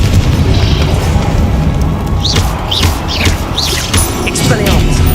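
Confringo fire spells blast in the Hogwarts Legacy video game, a loud dense roar of booming impacts with whooshing magical streaks, while a voice shouts over the chaos.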